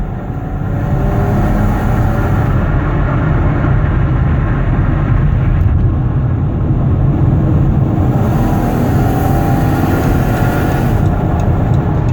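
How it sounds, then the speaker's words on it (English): A 2016 Dodge Caravan minivan engine drones steadily at about 65 mph on a highway, with constant low rumble and road noise throughout. "I like to get the van on the highway so you can hear it shift, hear the engine run."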